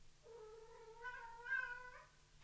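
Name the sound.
cat meowing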